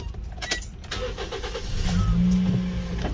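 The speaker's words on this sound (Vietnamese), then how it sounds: "em nổ máy luôn cho bà con nghe nhé" A Toyota Vios 2015 engine cranks and catches, then settles into a low rumbling idle nearby, with a few clicks and mechanical noises before it starts.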